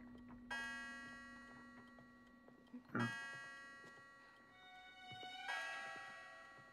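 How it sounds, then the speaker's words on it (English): Cuckoo clock in the video game It Takes Two, ticking faintly under sustained chiming bell tones that strike three times, with rich ringing overtones decaying between strikes. "It's working! Our cuckoo clock is working again!"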